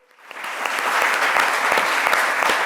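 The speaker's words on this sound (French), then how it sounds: "On applaudit encore plus" A television studio audience breaks into dense, steady applause that swells within half a second and holds loud and close, with no voices on top.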